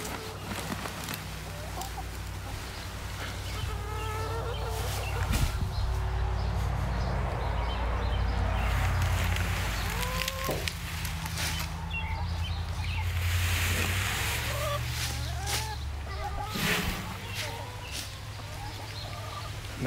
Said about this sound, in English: So let me dump some more for these hens.